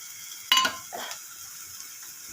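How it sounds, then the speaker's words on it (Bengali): Prawns tipped into banana flower mash in a pan and stirred: a sudden close scrape and sizzle burst, then a softer second stir against a faint background hiss. "এবার চিংড়ি মাছগুলো দিয়ে দিচ্ছি"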